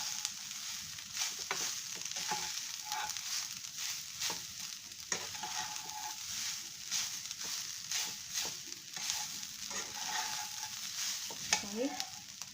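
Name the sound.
almonds and fresh coconut being sautéed in a pan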